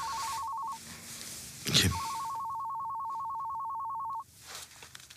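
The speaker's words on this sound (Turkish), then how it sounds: "Telefon çalıyor." A telephone rings in a steady electronic double-tone pattern, broken by a brief clatter, then rings on and stops. A single short word is spoken.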